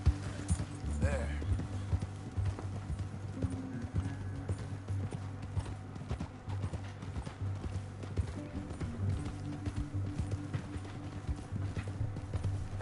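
Horse hooves clip-clopping along a canyon trail, a steady uneven rhythm of hoof strikes at moderate distance, continuing beneath the scene throughout.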